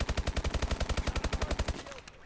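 Rapid automatic gunfire in Call of Duty: Advanced Warfare Infected mode, a close, loud, evenly spaced burst of about twenty shots that stops abruptly, followed by faint game sounds.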